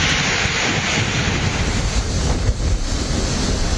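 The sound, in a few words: strong wind and rain during typhoon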